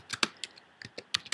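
A run of quick, crisp keystrokes on a computer keyboard as a search term is typed, about eight close, clicky taps in an uneven rhythm with no voice.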